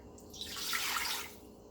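A stream of water poured into a cooking pot, about two cups for making orzo, a soft splashing rush that swells and fades over about a second, close and alone.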